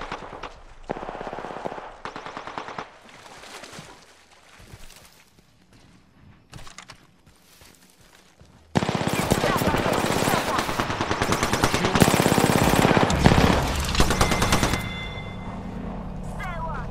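Apex Legends gunfire on Xbox One: scattered bursts of shots at first, then a loud, dense stretch of sustained automatic fire for several seconds, with voices talking over parts of the action.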